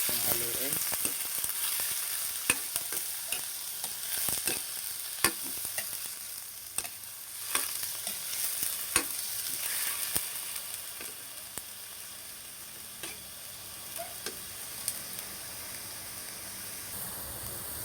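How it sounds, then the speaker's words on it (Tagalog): Chicken gizzard fries and sizzles in a pan and is stirred, with a steady close sizzle and repeated sharp scrapes and clicks of the utensil against the pan, no voices. "Natin itong haluin."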